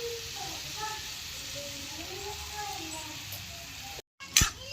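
Bitter gourd sizzles quietly in a hot pan with salt added, a soft steady frying hiss. A brief clatter from stirring is heard near the end.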